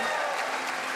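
A crowd at the IFSC World Cup lead finals in Kranj, 2021, applauds a climber with a steady, dense burst of clapping throughout.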